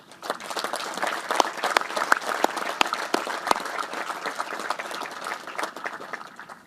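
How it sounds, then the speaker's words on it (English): Sustained audience applause at a military change of command ceremony for the 56th Artillery Command, steady dense clapping with a few sharp individual claps standing out, no voices. "please let's give them a round of applause again"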